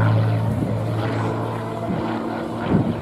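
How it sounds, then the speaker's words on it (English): Hawker Hurricane propeller fighter at the Dunsfold Wings and Wheels 2016 air show, a steady loud engine drone with low harmonic hum running throughout, swelling slightly near the end. "The Hurricane is back."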